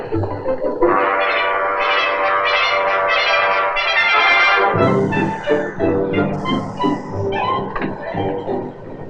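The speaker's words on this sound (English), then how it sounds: "Gee, Mr. King, this train jazz sure is neat" A train rolls through rail yards, a dense, loud mechanical rumble and clatter with ringing tones and a whistle-like sound, steady throughout with brief lighter patches, no talk over it.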